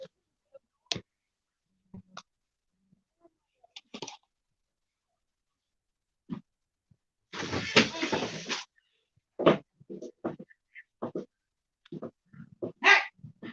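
Dogs scuffling with snarls, growls and short barks in scattered bursts, one louder flurry of commotion mid-way, fairly close with quiet gaps between.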